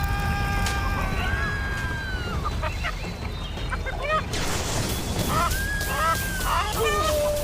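Poultry clucking in the video game Blade and Sorcery, with several short, repeated bird calls scattered over a steady game background, moderately close and alone without speech.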